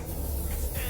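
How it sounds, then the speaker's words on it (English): A brief, close hiss of an aerosol spray paint can coating tree branches black outdoors, one continuous burst lasting about a second with no talking. "I'm just spray painting over here where I already had black mulch, so I don't have to do much cleanup."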